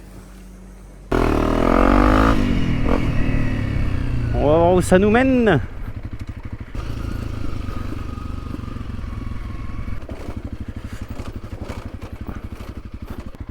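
An off-road enduro motorcycle in Thailand idles then revs up, rumbling close and steady as the bike gets moving, while someone talks briefly over it.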